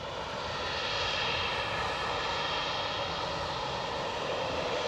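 An airliner's engines roar steadily at Edinburgh Airport as it waits near the runway, a loud, continuous broadband rumble and whine holding level throughout with no voices.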